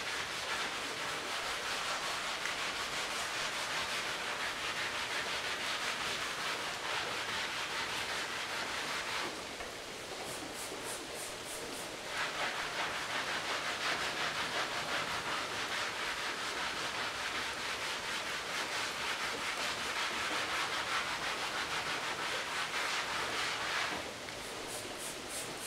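A magic eraser scrubs old paint off the side art of a Williams Joust arcade cabinet, a steady broadband rubbing hiss that continues almost unbroken, briefly changing texture midway, close and fairly loud with no talk.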